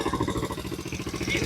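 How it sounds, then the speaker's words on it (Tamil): A motorcycle engine in Malaysia runs close by in a steady, throbbing idle with an even mechanical pulse and no break or pause. "வண்டி அடைச்சு போட்டுட்டு ஸ்டார்ட் ஆகலைன்னா எப்படி ஸ்டார்ட் ஆகும்?"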